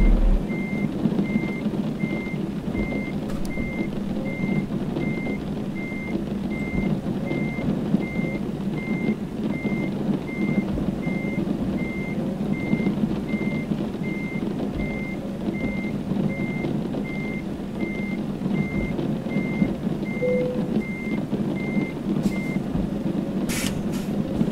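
A truck in Euro Truck Simulator 2 slowly backs up. Its reversing alarm beeps steadily and evenly over a constant low engine rumble, with a faint hiss near the end.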